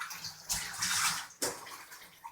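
Water runs and splashes in a shower, loud hissing bursts that start and stop in uneven surges, close by with no voices.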